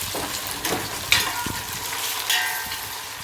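Tomato pieces fry with browned onions in a pan, producing a steady close sizzle with a few short spatula scrapes and knocks.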